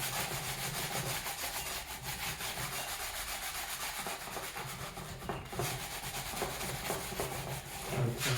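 Continuous fine abrasive rubbing of 1000 to 1500 grit sandpaper over a steel part from a 1999 Ford Mustang Cobra engine teardown, a steady close scratchy hiss with a soft back-and-forth rhythm and no voices.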